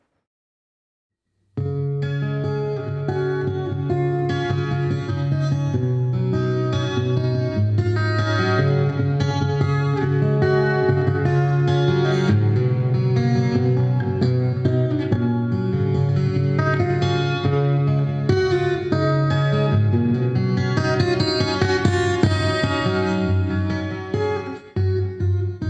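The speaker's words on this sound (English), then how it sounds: "right now I'm on a plate reverb, and this sounds really nice when you finger pick it" Fingerpicked acoustic guitar through a Hartke AC150 amp plays a flowing pattern of notes, bathed in the amp's shimmering plate reverb that leaves each chord ringing into the next.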